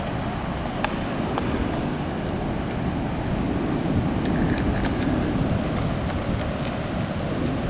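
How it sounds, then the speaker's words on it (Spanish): Steady wind blowing in from the sea toward a beach shore, a continuous loud broadband rush with surf-like texture and no talk. "Recuerden que ahorita tenemos un viento de costado, del mar hacia aquí."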